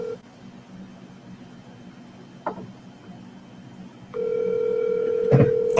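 A telephone dial tone comes in partway through as a steady, loud, continuous hum after a stretch of quiet room noise, with a brief click before it and a short burst of key presses near the end.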